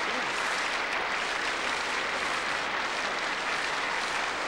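An audience claps steadily throughout, a thick continuous patter of many hands at an even moderate loudness with no pauses or talk.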